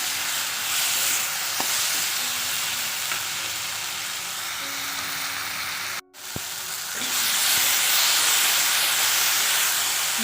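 Spices with turmeric and salt sizzle in a hot frying pan, a continuous close hiss with faint stirring clinks and a brief dropout near the middle.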